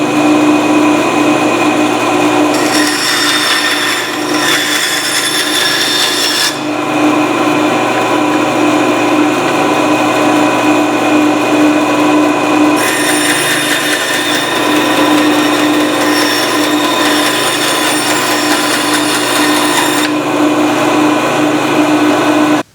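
A saw cuts through scrap wood for a tripod mount, giving a steady, loud, continuous buzzing drone whose brighter high-pitched whine rises and falls in long stretches.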